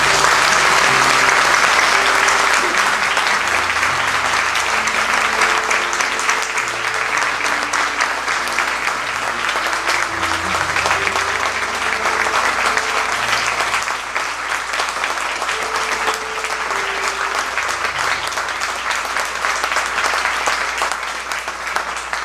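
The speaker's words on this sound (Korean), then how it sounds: "여러분 한번 크게 박수로 격려해 주시기 바랍니다" A church congregation gives sustained applause for newly ordained members at an ordination thanksgiving service, the loud, steady clapping running over twenty seconds while sustained organ-like musical tones play underneath.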